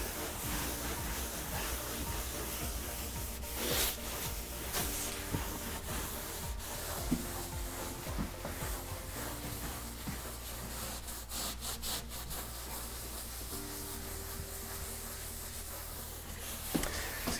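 Hand rubbing a concrete-look coating into a textured TV mantle, soft repeated scuffing and rasping strokes, close and fairly quiet, with no talking.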